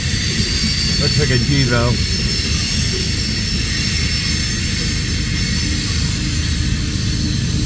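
A freight train rolls steadily past with its rear DPU locomotive pushing, somewhere in Nebraska or Iowa, a loud continuous rumble of wheels and cars close by, with a brief voice speaking early on.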